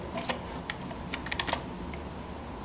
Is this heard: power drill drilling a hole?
no